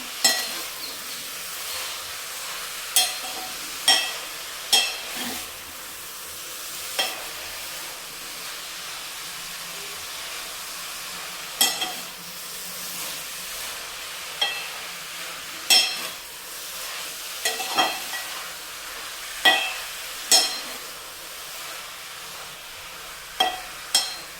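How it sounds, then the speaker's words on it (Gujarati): Grated bottle gourd roasting in ghee in a pan for halwa, a soft steady sizzle with repeated sharp scrapes and clinks of a spatula stirring at irregular intervals, close and moderately quiet with no talking. "પહેલાં એને ઘીમાં શેકી લેવાનું છે."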